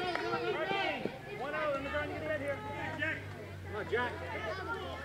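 Crowd murmur and chatter at a high school baseball championship game in Whitman, Massachusetts, Whitman against Braintree; a steady babble of many voices close by with scattered louder calls and a low hum underneath.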